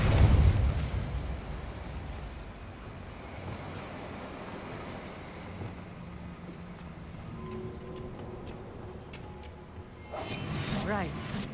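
Repulsion spell effect cast in the Hogwarts Legacy video game: a loud, broad rushing burst opens, a steady windy roar follows, and a second surging blast arrives near the end.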